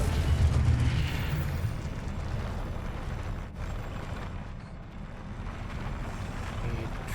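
Blasting spell explosion in the Hogwarts Legacy video game, a loud roaring boom with heavy low rumble that swells at the start and fades into a sustained windy, rushing wash for several seconds, with no talking.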